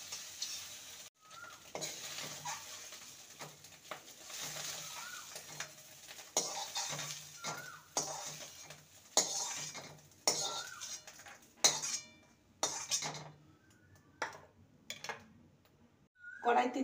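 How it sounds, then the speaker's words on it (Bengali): A utensil scrapes and clinks against a pan as scrambled egg is scooped into a bowl, with irregular metallic scrapes and taps over a faint background sizzle and a few pauses between strokes. "ডিমের ভুজিটা তৈরি হয়ে গেছে, এবার একটি পাত্রে নামিয়ে নেব।"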